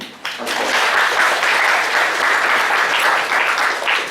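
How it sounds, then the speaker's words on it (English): A seminar audience breaks into applause, an abrupt onset of dense, loud clapping from many hands that holds steady for about four seconds. "Big applause yourself."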